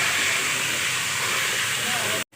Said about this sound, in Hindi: चिकन को भी अच्छी तरह से फ्राई कर लेते हैं।